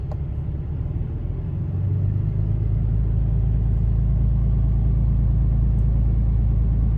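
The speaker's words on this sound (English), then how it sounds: "And there, it's idled up. Pushing about 1100 RPMs." An RV engine idling and rising to a higher steady idle of about 1100 RPM, a loud, continuous low rumble that grows slightly heavier after the first couple of seconds and then holds even.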